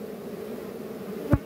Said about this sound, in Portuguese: Tá cheio de abelha entrando.